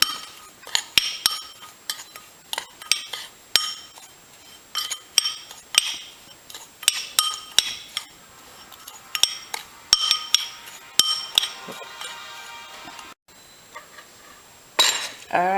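Ground red pepper, salt and spices being stirred together in a bowl, with repeated light clinks and scrapes of a utensil against the dish in an irregular rhythm, close and fairly quiet, with no talking.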